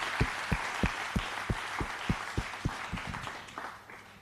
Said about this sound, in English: Round of applause, ladies and gentlemen.